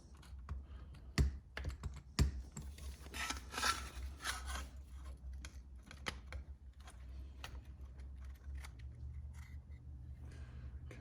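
Plastic housing halves of a Makita 74LJ drill are pried apart, giving a run of sharp clicks, snaps and crackles with a few louder cracks early on, close and fairly quiet, with no talking.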